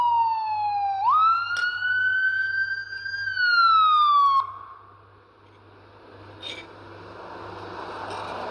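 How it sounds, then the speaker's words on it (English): An ambulance siren passing on a Toronto street, a loud wailing tone that rises and holds for about four seconds, then cuts off abruptly and leaves a low wash of traffic rumble. "There's an ambulance over there,"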